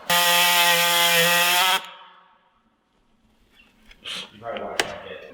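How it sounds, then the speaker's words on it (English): Plastic trim near a car's tire being cut back for clearance: a loud steady power-tool whine for about two seconds, then a fading rumble and a few scraping, rubbing bursts close by. "So we're just going to trim off some of this plastic so that has some clearance and doesn't rub"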